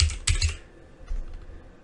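Quick bursts of typing on a computer keyboard, a few close, crisp key clicks clustered at the start and a fainter tap near the end.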